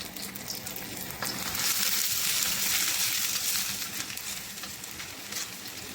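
Garlic sizzles and fries in olive oil in a hot kawali pan, a steady close crackling hiss that swells midway and holds with no one talking.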